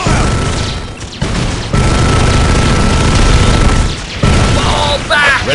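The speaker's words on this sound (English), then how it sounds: "We're under fire!" Heavy battlefield gunfire and booming explosions in the video game Bloodline, loud and continuous with crashes, brief gaps and an unit voice barking over the din.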